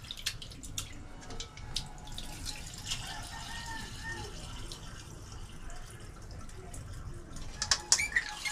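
Water drips irregularly in a quiet room, some drops sharper and louder than others, with faint background noise throughout.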